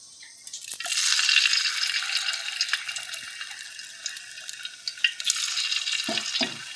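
Sukrunde sweet balls frying in oil as a temple offering, a continuous bright crackling sizzle with scattered popping drips and small bursts that swell and ease over several seconds.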